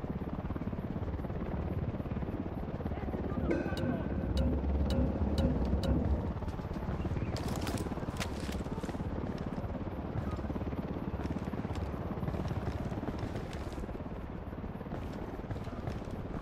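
A helicopter's rotor drones steadily throughout, with some clicks and bursts of other game sounds partway through, in the video game Tom Clancy's Ghost Recon Wildlands.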